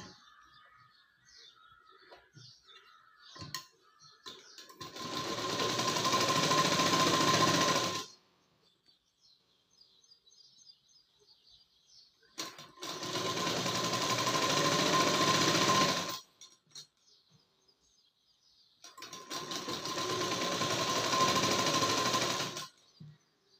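A sewing machine stitching the lower hem of a prince cut blouse in three long, steady whirring runs, each lasting a few seconds, with quiet pauses between them.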